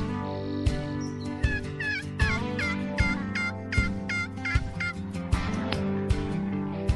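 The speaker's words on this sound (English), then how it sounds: "the toms are strutting, the hens are yelping, and the jakes are just going crazy" Wild turkeys gobbling and yelping in a turkey call advertisement, repeated loud gobbles in an irregular series, close and clear, with no talking.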